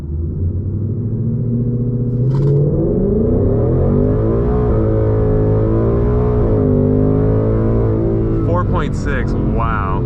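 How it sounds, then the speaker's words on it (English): A 2020 Ford Mustang GT launches after brake torquing, its engine rumbling and revving up steadily through the gears, loud and close from inside the car, while people talk over it. "Since I don't think it's gonna spin, I'm gonna try brake torquing it."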